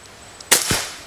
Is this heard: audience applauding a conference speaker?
no